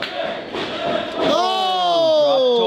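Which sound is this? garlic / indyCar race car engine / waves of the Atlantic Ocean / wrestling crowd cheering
wrestling crowd cheering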